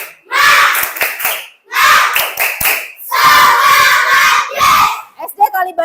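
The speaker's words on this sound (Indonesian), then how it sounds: "tepuk semangat." Elementary schoolchildren in an Indonesian classroom perform a rhythmic spirit clap chant: sharp, loud clapping in patterned bursts, mixed with the children's chanting voices and separated by short pauses.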